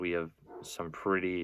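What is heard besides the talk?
dogs barking in the background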